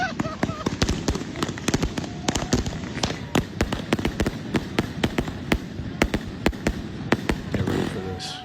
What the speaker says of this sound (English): everyone has the contraband Chinese fireworks early